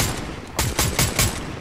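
Video game gunfire, a rhythmic burst of four loud, evenly spaced shots over constant battle noise.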